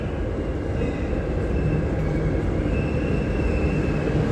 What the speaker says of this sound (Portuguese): o metrô já está chegando aqui, ó